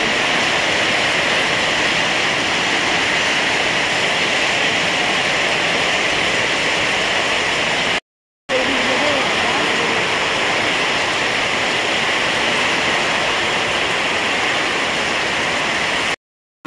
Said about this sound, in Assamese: ইমান বৰষুণ দিলে ন